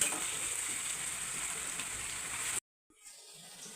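Chopped onion with salt sizzling steadily in a hot pan on a home kitchen stove, a continuous bright fry that cuts off abruptly, then resumes more faintly.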